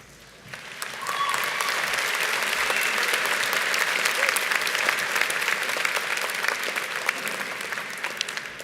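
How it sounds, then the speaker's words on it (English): Audience at a university convocation ceremony applauding graduates, clapping swelling in after a quiet second and holding as a broad, sustained round from a large hall crowd. "please rise and give today's graduates a big round of applause"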